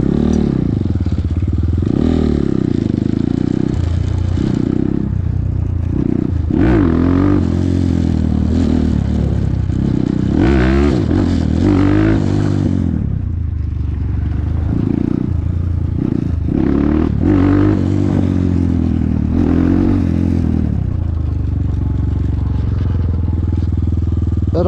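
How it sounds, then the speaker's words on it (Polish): Supermoto dirt bike engine loud and close throughout, rising and falling in repeated revs with throttle bursts as the rider tries to lift a wheelie, with some clattering mechanical noise; no speech. "inaczej się jeździ na supermoto. Fajnie, zaraz na kółko go spróbuję poderwać"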